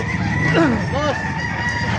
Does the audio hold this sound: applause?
no